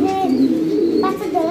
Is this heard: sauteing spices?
no